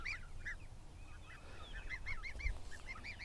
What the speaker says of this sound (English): Hi, little geese.